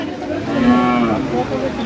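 A loud, close cow lets out a single long, low moo at a crowded cattle market in Mirzapur, Tangail, with outdoor crowd noise faintly behind it.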